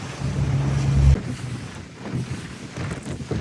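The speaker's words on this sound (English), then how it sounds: "So yeah, we got 30-mile-an-hour gusts at the moment." Strong gusts of about 30 mph buffet a boat out on the water, a loud broadband roar of wind that surges for the first second and then settles into a steady, slightly lower rush without voices.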